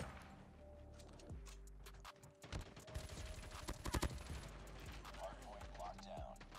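A Peacekeeper rifle fires in Call of Duty Mobile in quick rapid-fire bursts of sharp shots, loudest near the middle, with someone talking over the gameplay throughout.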